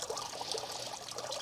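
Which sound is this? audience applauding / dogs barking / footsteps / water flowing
water flowing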